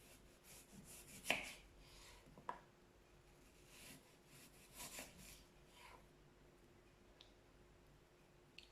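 A knife slices food into thin strips on a board, giving soft, scattered cuts and taps, faint and close, with a few sharper knocks and no talking.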